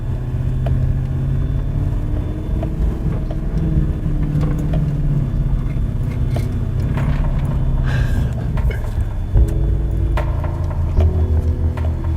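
A four-wheel drive vehicle's engine runs steadily at close range, a continuous low rumble with shifting engine tones throughout.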